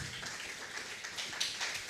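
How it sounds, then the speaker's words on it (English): Faint applause from an audience at a presentation, a soft wash of scattered clapping that holds steady and sounds distant and low in level for under two seconds. "Shall we give him a round of applause"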